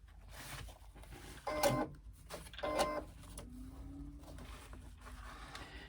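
A sewing machine with a zipper foot sews a 3/8 inch seam along the outer edges of a fabric pouch, running in two short bursts against a quiet background.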